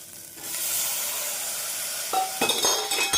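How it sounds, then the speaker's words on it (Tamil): Tomatoes and curry leaves sizzle steadily in a hot pan over medium flame, then near the end a few clinks and scrapes of a spoon stirring break in over the hiss. "தக்காளி சேர்த்து மீடியம் ஃப்ளேமில் நன்றாக வதக்க வேண்டும்"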